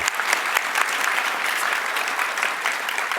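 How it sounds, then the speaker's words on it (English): Audience applause fills a conference hall at Figma's Config event, a dense, steady wash of many hands clapping that holds at an even level throughout without letting up. "Oh yeah, there's some applause."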